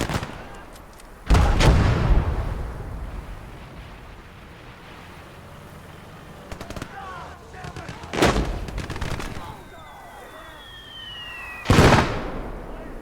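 Mortar rounds in a World War II battle game, three heavy booming blasts several seconds apart, each with a long rumbling tail over a distant crackle of battle, followed by whistling shells, with voices speaking between the blasts.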